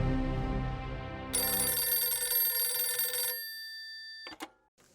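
A telephone rings loudly with a bright, sustained electronic trill, then cuts off, followed by a couple of faint clicks like a handset being lifted.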